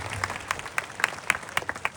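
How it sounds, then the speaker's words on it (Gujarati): An audience at a village Maharaas gathering claps in honour of Bapu, bursts of applause rising and falling in uneven waves, moderately close and with no voices on top. "આપણે જોરદાર તાળીઓના ગડગડાટથી વધાવીએ"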